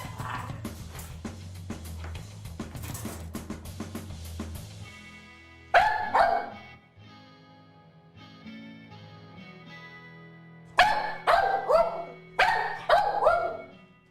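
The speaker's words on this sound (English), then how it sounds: "She will not settle down and she barks continuously." Staffordshire Bull Terrier barking, sharp loud barks in several clusters of two or three, heard over a sustained droning tonal background with a busy noisy stretch at the start.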